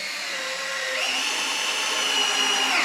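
A power drill drives a screw into a wooden table saw sled, its motor whining steadily and rising in pitch after about a second, loud and close with no talk.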